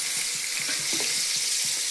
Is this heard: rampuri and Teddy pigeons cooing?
no